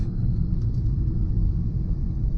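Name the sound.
MK7 Golf R car driving through road construction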